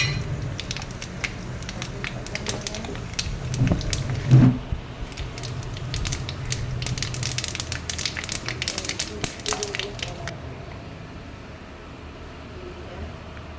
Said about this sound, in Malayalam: ഇനി നമുക്ക് ഒരു ചീനച്ചട്ടി അടുപ്പത്ത് വെച്ചിട്ടുണ്ട് അതിലേക്ക് കുറച്ച് വെളിച്ചെണ്ണ ഒഴിച്ചു കൊടുക്കാം അതിലേക്ക് കടുകിട്ട് കൊടുക്കാം